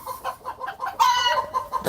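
A chicken clucks in a steady run of short, close calls, then breaks into a louder, drawn-out squawk before the clucking resumes.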